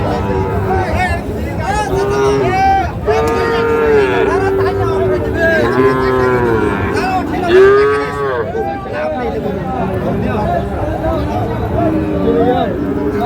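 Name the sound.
Sahiwal cattle mooing at a livestock market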